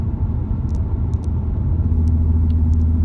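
A 2016 Ford Mustang with a 3.7-liter V6 engine cruising along, giving a steady low engine rumble and road noise heard from inside the car, with no talking.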